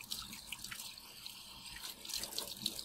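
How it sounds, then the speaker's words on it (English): A kitchen tap in the Paranoiac video game runs with a steady, quiet stream of water, with light splashing and dripping into the sink throughout. "Drink the water out of the tap, then."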